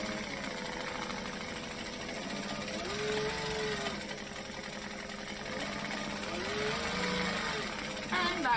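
A sewing machine stitches steadily around a curved seam, a continuous mechanical whir with slight rises and dips in pace, while a person talks over it.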